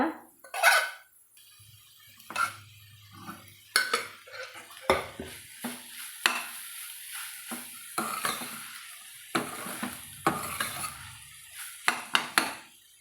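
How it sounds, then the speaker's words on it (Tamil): Cooked rice is mixed in a pan for vallarai fried rice, with intermittent spoon clanks and scrapes against the metal pan, spaced irregularly with quiet gaps between strokes. "பாருங்க இப்போ நம்ம நல்லா கலந்து விட்டோங்க"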